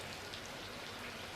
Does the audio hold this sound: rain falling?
yes